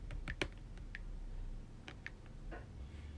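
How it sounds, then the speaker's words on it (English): A few sparse keystrokes on a computer keyboard, with light clicks and taps coming in small irregular bursts over quiet room tone and no talking. "maybe I want to, hit space and start typing my answer"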